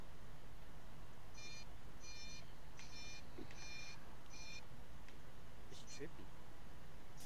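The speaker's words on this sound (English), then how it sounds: "It's beeping really hard." Electronic beeping in the ghost-hunting video game Specter: a rapid series of five sharp, evenly spaced beep bursts, followed by a couple of brief tones, over a steady hum of background noise.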